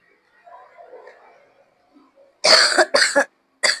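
A person coughs three times in quick succession, close and loud, in a home kitchen while rice wafers are being made; the harsh bursts follow a stretch of faint, low background murmur.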